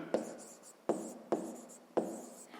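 A pen writes math on paper in four short, distinct scratchy strokes, each a crisp onset that trails off, close and quiet with no talk.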